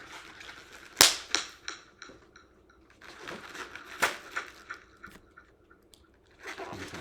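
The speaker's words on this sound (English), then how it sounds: "More popping sound." Latex balloons being twisted into balloon cubes, with a sharp loud pop followed by squeaky rubbing, crinkling and a second distinct pop, plus scattered smaller snaps and handling noise throughout.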